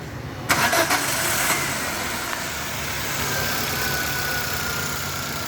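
Chevrolet Sail car engine cranking and catching, then settling into a steady mid-pitched idle, loud and close with no talking.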